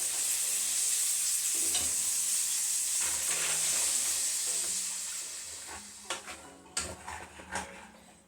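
Potatoes and field beans sizzle steadily in a hot pan, a loud frying hiss overlaid with clinks and scrapes of a spoon stirring against the metal.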